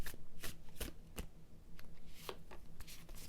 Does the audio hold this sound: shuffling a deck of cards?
yes